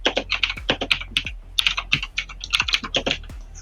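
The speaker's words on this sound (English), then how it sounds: "I was just typing you a message" Typing a message on a computer keyboard, a rapid uneven run of crisp key clicks with brief pauses, close and fairly loud, with no speech.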